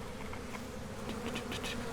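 Honey bees buzz steadily around a hive entrance fitted with a queen excluder, a continuous close drone of many wings with a few louder passes near the end.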